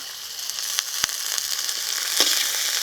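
Spice paste of ginger, garlic, cumin and dried red chilli with turmeric and salt frying in a pan, a steady close sizzle with a few sharp crackles and pops.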